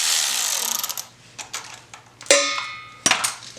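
A 3/16 ball Allen wrench loosens a bolt on a Harley-Davidson Dyna crank sensor, heard as close, sparse metallic clicks and scraping taps, a brief hiss at the start and two sharper clanks near the end.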